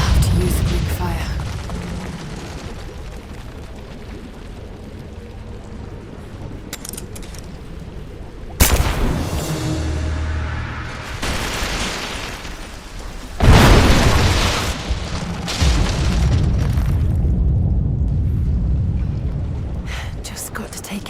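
Greek fire blasts in Rise of the Tomb Raider bring down an unstable statue's supports: two heavy, close booms a few seconds apart, each followed by a long rumbling roar of collapse over game sound.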